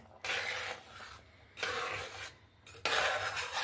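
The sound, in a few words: stirring Gobindobhog rice payesh in a pot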